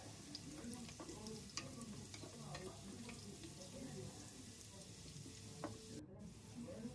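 Drumstick pieces frying in oil in a pan, a steady soft sizzle with scattered stirring clicks and scrapes throughout, fairly quiet and alone.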